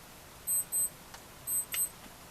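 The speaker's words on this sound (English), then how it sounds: "my alarm's going off" Short electronic alarm beeps in a quiet room while crafting a homemade Christmas project: two pairs of sharp, high-pitched tones, each pair a quick double beep, with a faint click between them and no talking.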